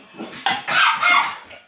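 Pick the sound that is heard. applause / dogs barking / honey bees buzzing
dogs barking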